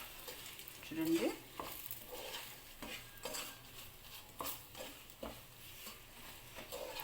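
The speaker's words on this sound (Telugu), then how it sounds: "ఇలా ఫ్రై అవనివ్వాలండి కాసేపు." Green chillies fry with spice powder, salt and turmeric in a pan, a soft steady sizzle broken by light scraping stirs, faint and close, with no talk.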